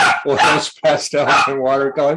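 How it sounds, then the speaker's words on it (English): A dog barks a few sharp times indoors, the barks overlapping a person speaking close to the microphone. "That's my dog, fierce attack dog."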